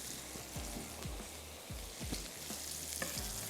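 Cabbage, carrot and spring onion whites frying in a pan on high flame, a steady soft sizzle with repeated low scraping stirs, close and fairly quiet, no talk.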